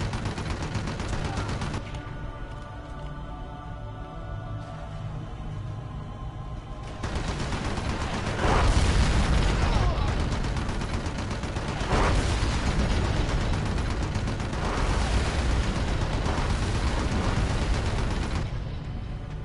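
Sustained gunfire and booming explosions as a military convoy on a highway is attacked in Red Faction II, a steady roar of automatic fire with repeated heavier blasts swelling midway, no voices.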